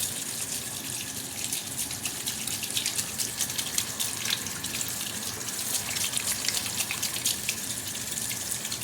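A bathroom tap runs steadily for hands being washed, a continuous close hiss of flowing water splashing into a sink with no pauses.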